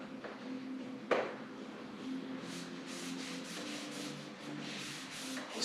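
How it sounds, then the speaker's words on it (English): Hand sanding on a Triumph TR7, soft repeated rubbing strokes in a steady rhythm with one sharp knock near the start, fairly quiet and close. "Sand it out."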